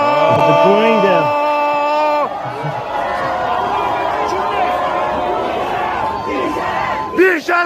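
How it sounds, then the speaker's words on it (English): Crowd of university students in Iran booing and chanting, loud overlapping voices with shouted cries up front, then a dense sustained hubbub of jeering. "They're booing them."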